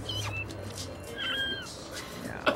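A cat in the No More Heroes video game meowing in a few short calls, with a louder yowl near the end, while people talk faintly.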